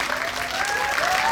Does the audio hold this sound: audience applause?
yes